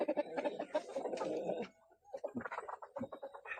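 Chickens, including a rooster, cluck in quick, uneven bursts at close range. A short pause splits the clucking before more choppy calls follow, and no one speaks.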